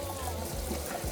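A brief burst of running tap water gives something a quick rinse in a home kitchen, a steady close rush with low hum beneath.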